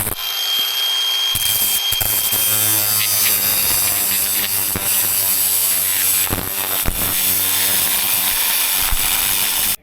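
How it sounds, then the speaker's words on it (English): Power tool grinding down the flared end of a metal greenhouse hoop pipe, a loud, steady motor whine with harsh scraping and occasional jolts as it bites the metal, close and continuous with no voices. "We have to trim it down so the pipe will slide over it nicely."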